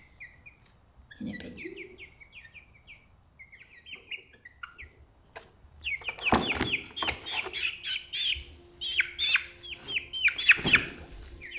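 Chickens on an old farm in Norway cluck and chirp, starting sparse and quiet, then growing into a dense, lively chorus of overlapping close calls and squawks.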